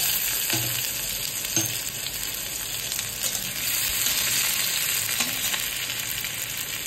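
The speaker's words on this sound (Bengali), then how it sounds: "রসুনটা একটু ভাজা ভাজা হলে দিয়ে দিচ্ছি" Steady oil sizzle of garlic and ginger frying in a pan, continuous and close, with a few brief stirring scrapes; no voices.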